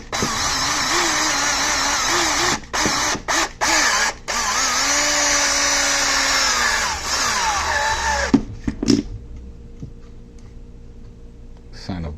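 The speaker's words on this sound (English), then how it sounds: "That way I can stick it in the drill." A power drill boring a pilot hole with a 1/16 drill bit in a 1969 Torino Talladega project: a high motor whine with brief stops and restarts and shifting pitch, ending with short clicks and handling noise after the drill cuts off.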